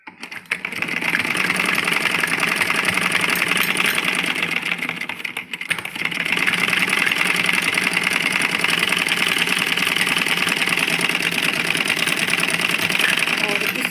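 A sewing machine stitches a printed kurti, its fast even motor whir running loud and close for the whole stretch, with one brief pause midway, no talking over it.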